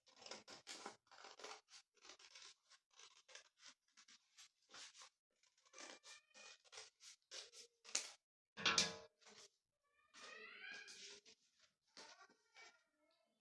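Scissors cut paper strips for a Mother's Day card, making a series of quiet, close snips and crisp slicing strokes in irregular bursts, separated by brief silences.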